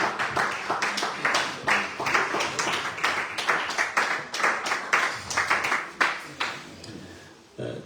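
An audience at a legislative internship reflection session claps for Professor Vincent Anigbogu, a lively run of fairly close applause with distinct bursts of clapping that carries on steadily before ending abruptly.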